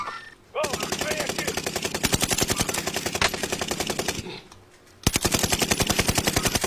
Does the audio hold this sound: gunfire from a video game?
yes